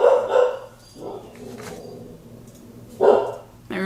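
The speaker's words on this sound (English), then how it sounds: "My roommate's dog doesn't like it either." A dog barks indoors, two loud close barks a few seconds apart with quieter sounds between them.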